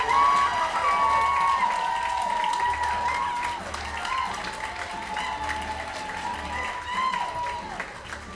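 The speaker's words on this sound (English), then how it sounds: "applause for Bettina Phelps." Audience at a comedy bootcamp show claps steadily for a stand-up comic taking the stage, a dense applause that stays loud throughout and eases slightly toward the end, with a few faint voices mixed in.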